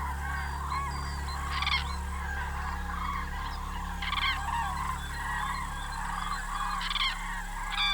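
Loud trumpeting calls of common cranes ring out in repeated bursts over a steady low background, several birds calling together at moderate distance.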